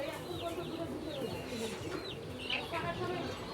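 Tiger chickens about fifteen days old clucking and cheeping at a farm, scattered short high calls spread across a steady low background murmur.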